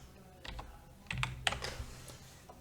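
Typing on a computer keyboard into the Windows search box: a few short bursts of close, crisp key clicks, quiet and spaced with brief pauses, no voices.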